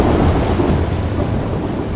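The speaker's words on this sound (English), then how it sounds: "This is a major storm." A major storm over a forested Pacific watershed: heavy, steady rain pours without pause while deep thunder rumbles underneath, loud and close throughout, with no voices.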